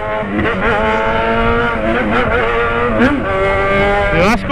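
A Yamaha XJ6 motorcycle engine revs loudly and steadily, its pitch rising and falling in repeated sweeps over a continuous harsh roar, close to the microphone, with no talking.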